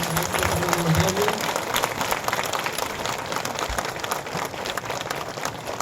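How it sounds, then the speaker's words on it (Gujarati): Applause welcoming someone at a flag-salute gathering, a loud, dense crowd clapping that carries on for several seconds, with some voices mixed in. "ખૂબ તાળીઓના માર્ગ સાથે આપણે વધાવીએ."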